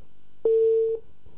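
A steady telephone tone comes on abruptly after a call cuts off, holding for about half a second at moderate level before ending, with quiet room noise around it.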